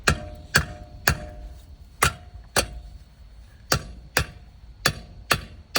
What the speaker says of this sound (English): lucky I bought a hammer